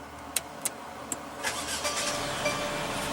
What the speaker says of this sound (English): what you're hearing there is a 2-liter turbocharged inline 4-cylinder